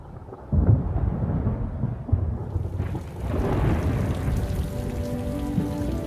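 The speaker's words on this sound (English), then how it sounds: "storm clouds are massing." Storm with steady heavy rain hiss and rolling rumbles of thunder, a loud close crack early on, dense and continuous with no voices.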